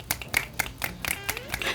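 Hands clap in a quick, uneven series of sharp smacks, close and fairly loud, with a voice talking faintly underneath.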